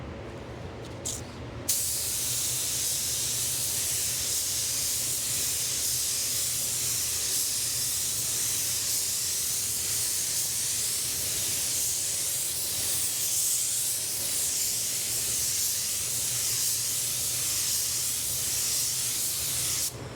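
A spray gun lays down a Spies Hecker Hi-Tec orientation coat in one long, steady close hiss that runs unbroken for nearly twenty seconds after a few brief clicks at the start.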